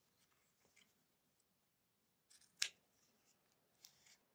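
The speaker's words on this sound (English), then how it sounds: "Now I can cut off the excess." Scissors cutting off excess fabric from a gothic square zipper pouch, heard as a few faint, close snips with one sharper cut in the middle, in a quiet room.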